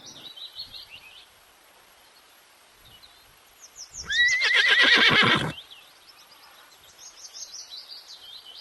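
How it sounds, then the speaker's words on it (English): A loud horse whinny rings out in the middle, a long quavering neigh, with birds chirping softly before and after. "H. H for horse."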